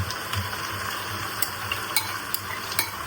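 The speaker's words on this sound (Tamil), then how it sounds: "இந்த கலவைகள் எல்லாத்தையும் இந்த வெங்காயம் வதங்குறதோட நான் சேர்க்கிறேன்." Onions with cinnamon, cloves and cardamom, plus ground mint and tomato, sauté in a pan for prawn biryani, a soft steady sizzle with a few light stirring clicks, quiet and close.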